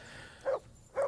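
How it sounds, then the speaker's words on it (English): Two sharp dog barks from the Kingdom Come 2 video game, close and clear, separated by a short pause over a faint ambient hum. "Henry, whistle at that mutt of yours to stop barking."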